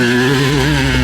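Yamaha YZ250 two-stroke dirt bike engine on a King of the Hill hill climb, a loud, close, steady high-revving drone with strong harmonics held throughout, no talk.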